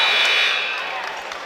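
A basketball game buzzer sounds at the end of the first half between High Point and Furman, a loud sustained electronic tone that holds for about a second and then fades under arena crowd noise.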